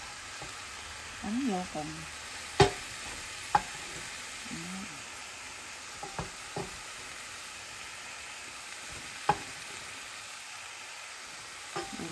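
Tofu soup ingredients with ginger, mushrooms and tomato are stir-fried in a pan, making a quiet, even sizzle with occasional sharp utensil clinks. A voice speaks briefly near the start.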